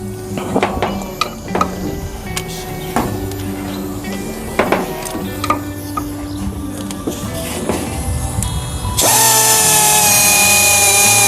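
A power drill fitted with a 14 mm socket works bolts on a 1941 Buick Special, short whirring bursts and clicks, then a sustained louder high whine toward the end, close up.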